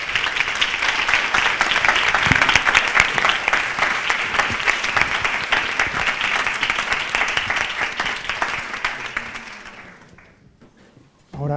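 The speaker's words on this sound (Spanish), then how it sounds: "Por favor, démosle un fuerte aplauso" An audience at an education forum gives a loud, sustained round of applause on a Sunday morning, many hands clapping densely for about ten seconds before fading out, followed by a brief sound at the very end.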